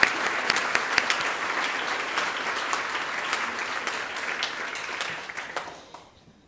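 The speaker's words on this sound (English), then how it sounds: "So now let's have a round of applause for our electeds." Sustained applause from a large indoor audience at a town address honouring elected officials, a steady dense wash of clapping that fades out near the end.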